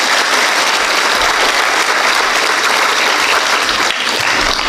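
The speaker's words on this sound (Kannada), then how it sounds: "ಪೋಷಕರು ಎಲ್ಲರೂ ಸೇರಿ ಒಮ್ಮೆ ದೊಡ್ಡದಾಗಿ ನಮ್ಮ ಡಾಕ್ಟರ್ ಮಾನಸ ಅವರಿಗೆ ಚಪ್ಪಾಳೆ ಕೊಡಬೇಕು" Parents in the audience at a dance academy's annual day celebration applauding Dr. Manasa, a dense, loud and steady roar of many hands clapping at once that continues without a break, with no talk over it.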